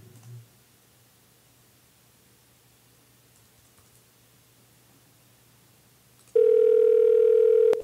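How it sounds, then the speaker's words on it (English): A phone dial tone on a Google Voice desktop call starts abruptly after several seconds of near silence, then holds loud and steady before cutting off. "I'll go ahead and dial the phone number, try this out."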